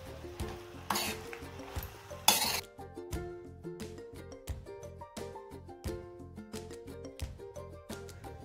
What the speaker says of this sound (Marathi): आणि पुन्हा एकदा सगळं हलवून घेतो आपण.